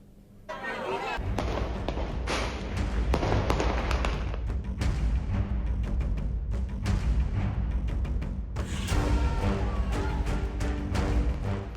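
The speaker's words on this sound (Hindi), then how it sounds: "दिवाली पर खूब आतिशबाजी हुई, जमकर पटाखे फोड़े गए" Diwali fireworks and firecrackers bursting in dense, continuous succession, a loud sustained barrage of cracks and thuds with no pauses, mixed with crowd noise.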